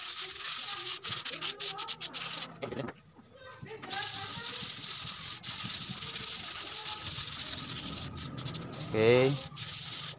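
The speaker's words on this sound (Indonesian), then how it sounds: "Nah ini pengamplasannya sampai ngambang tapi halus" Wood being hand-sanded smooth ahead of a polish finish, a steady rubbing abrasion running through most of the stretch with a short quiet pause and a few louder strokes near the end.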